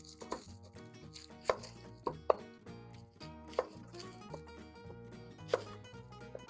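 A knife slices a red onion thinly on a board, giving quiet, irregular taps with a few sharper knocks, close-up and faint, no talking.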